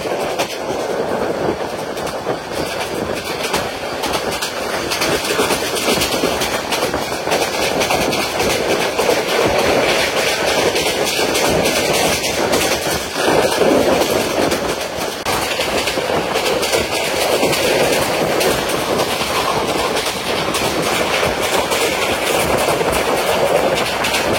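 Mahanagar Godhuli Express passenger train rolling steadily on rails, a continuous loud rumble with clickety-clack wheel rhythm heard from inside the carriage, no talking.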